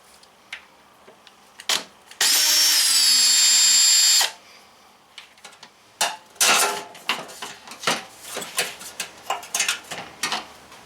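A power drill backs screws out of a propane stove, one steady two-second whir close by, followed by a series of metallic clinks and rattles as parts are handled.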